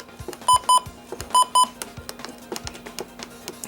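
Button beeps of a Retekess TR625 radio: two pairs of short, sharp electronic beeps, clearly audible over faint clicks and handling taps from the buttons being pressed.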